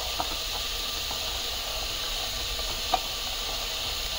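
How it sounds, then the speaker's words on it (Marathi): Peas, finely chopped carrots and cauliflower sauté in a pan over a low flame, giving a steady soft sizzle and hiss with a couple of faint clicks of a utensil. "आता हे सगळं आपल्याला छान परतून घ्यायचं आहे।"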